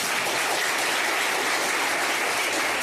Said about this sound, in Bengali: আর নিজেদের জন্য জোর দেওয়া একটা করতালি হয়ে।